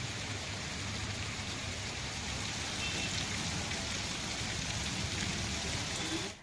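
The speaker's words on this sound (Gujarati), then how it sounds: "વહેલી સવારે ભાણવડમાં 2 ઇંચ જેટલો વરસાદ ખાબક્યો." Heavy early-morning rain falls in Bhanvad, Dwarka district, a dense, steady roar of downpour that holds unbroken and fairly close before cutting off at the end.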